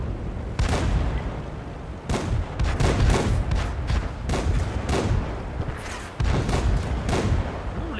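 Heavy cannon fire from an artillery tank in World of Tanks, several booming shots a couple of seconds apart over a constant rumbling battle din, loud and close.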